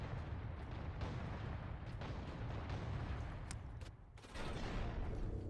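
Heavy ork cannon firing in the Warhammer 40K Space Marine video game: a sustained, loud rumbling barrage with booming bursts, briefly dipping before surging back in full force.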